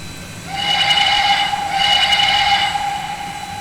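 Steam locomotive whistle of a PRR I1sa 2-10-0 in the Trainz 2019 game, two airy, breathy blasts over a steady rumbling background, the second slightly longer, with a thin high tone running through.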